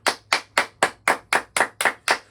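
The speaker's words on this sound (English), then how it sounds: "So we're gonna clap it up for our subscribers." A few people clapping hands in a quiet room, nine sharp, evenly spaced claps in a steady rhythm, close and distinct with no talk.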